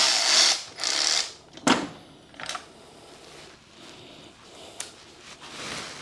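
A ratchet fitted with a 12-point socket works on star bolts on an LS-swapped BMW E46, giving short bursts of clicking and metallic scrapes with pauses between.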